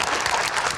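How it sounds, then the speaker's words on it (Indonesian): Studio audience applause on an Indonesian political talk show, a short, steady burst of dense clapping heard close and alone, without talk. "Oke, kita berikan tepuk tangan dulu Bang Roni."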